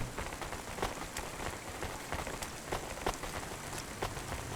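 Steady rain patters down in the rainy city streets of the video game Cloudpunk, a dense continuous hiss with scattered louder drop taps, heard alone without talk.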